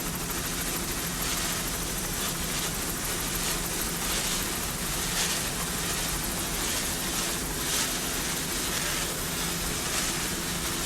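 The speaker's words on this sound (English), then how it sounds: "In that helicopter there is Mr. David Clark, sometimes flies for freeze frame video" Steady, continuous rotor and engine drone of a helicopter over the 1998 Key West offshore powerboat racing world championships, broad and fairly loud throughout with no voices.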